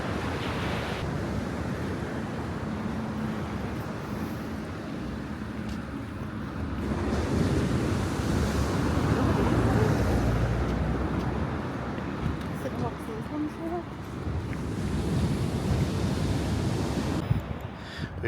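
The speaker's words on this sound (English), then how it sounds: "we enjoyed the sound of the sea so much that we just stuck on the seafront and listened to it" Sea waves wash onto the seafront promenade at Fuengirola, a continuous broad rushing surf that swells and eases, mixed with wind buffeting, with speech in the background.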